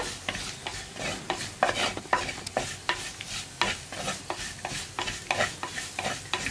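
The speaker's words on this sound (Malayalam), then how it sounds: "നമ്മൾ ഇളക്കി കൊടുത്തുകൊണ്ടേയിരിക്കുക" Repeated scraping strokes of a spoon stirring Kashmiri chilli and other spice powders in a clay pot for brinjal curry, steady rhythm, close and fairly loud with a faint sizzle beneath.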